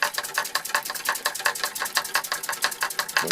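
A 1905 Fritz Neumeier steam engine runs steadily, giving a fast, even chuffing and clicking rhythm of repeated short bursts, close and moderately loud, with no voices.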